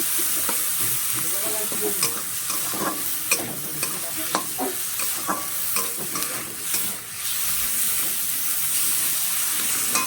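Capsicum and tomato masala frying for a tilapia curry, a steady sizzle under repeated close scraping and clinking stirring strokes in the pan, continuing for around ten seconds without speech.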